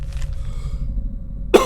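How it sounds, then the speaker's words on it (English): A single loud, close cough bursts out at the very end, after a stretch of low room hum and faint background sound, during a Fallout 4 gaming session. "Let's get one last cough out"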